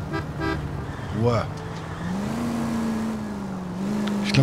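A 1940s-style car driving in L.A. Noire, engine humming steadily and rising in pitch as it accelerates, with a short horn toot early on and people talking over it.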